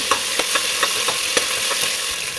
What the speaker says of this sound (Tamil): இதையும் சேர்த்து நல்லா வதக்கி விட்டுடலாம்